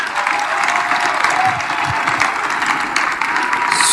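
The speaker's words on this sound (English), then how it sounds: "please give them a big round of applause." A youth convention audience claps for the panelists in a round of applause, a sustained, even roar of many hands that stays close and loud throughout.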